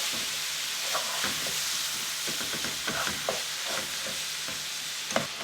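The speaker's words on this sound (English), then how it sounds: "you just want to cook your ground beef all the way until it's cooked through" Ground beef fries in a pan as it is stirred, a steady sizzle broken by repeated scraping and clacking strokes of the utensil against the pan.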